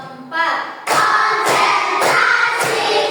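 A class of schoolchildren claps a counted rhythmic pattern in a classroom, sharp group claps landing in regular bursts, close and loud, with voices mixed in.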